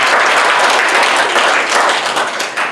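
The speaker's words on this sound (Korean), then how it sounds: "이거는 박수를 쳐야 되지 않나요?" A church congregation breaks into loud, dense applause during a Sunday sermon, a full and close wash of clapping that continues throughout and tapers slightly at the end.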